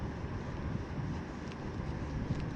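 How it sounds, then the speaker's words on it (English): Strong wind sweeps across a lake during kayak bass fishing, buffeting the microphone with a continuous low rumble and rushing noise, along with faint water sounds and no talk. "wind is picking up a lot"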